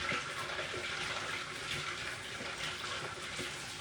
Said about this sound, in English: I'm going to use my cup to get me some water.